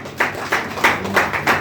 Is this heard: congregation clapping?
yes